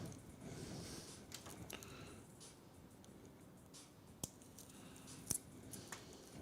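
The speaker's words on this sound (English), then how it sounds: "Let me get our snips, snip these twist ties." Snips cut plastic twist ties off cables during a PC build, a few sharp crisp clicks scattered among quiet rustling and handling, close by and soft overall with no talk.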